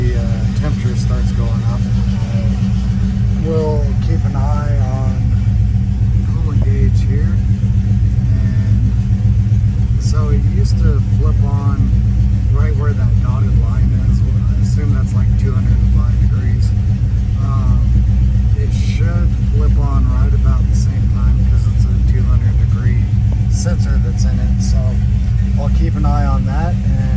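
A vehicle engine idles in a steady low rumble throughout, with a person talking over it much of the time.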